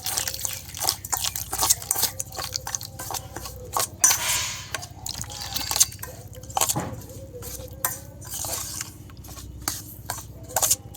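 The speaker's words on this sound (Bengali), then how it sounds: "জল দিয়ে ভিজিয়ে দেব" Water is poured over semolina in a kitchen bowl, giving soft irregular drips and trickles mixed with light clinks of utensils, fairly quiet and close.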